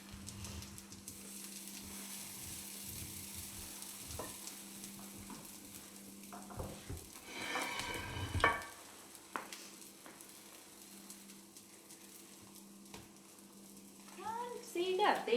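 Gluten-free corn fritters fry in a pan with a low, steady sizzle under a constant hum, broken by a few clattering scrapes as they are flipped.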